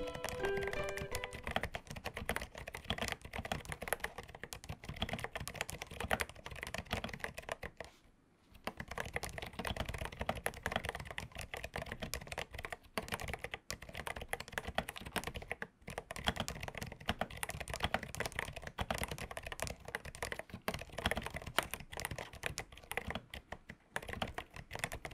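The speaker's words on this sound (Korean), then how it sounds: "보글보글 소리가 참 편안한 타이핑을 가능하게 해요" Steady typing on a retro-style 8BitDo mechanical keyboard fitted with quiet HG Yellow silent tactile switches, soft muted key presses in a continuous rapid rhythm, close and fairly quiet, with one brief pause partway through.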